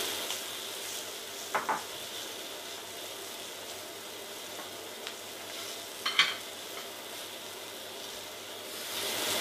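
Small vegetables sizzling on a hot plancha griddle for an Italian-style burger, a continuous close hiss with a few scraping clicks from a spatula moving them around.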